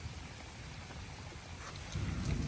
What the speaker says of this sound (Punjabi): ਲੋ ਜੀ ਮੀਂਹ ਆ ਗਿਆ ਤੁਹਾਨੂੰ ਪਤਾ ਲੱਗ ਗਿਆ ਵੀ ਮੀਂਹ ਬੜਾ ਸੋਹਣਾ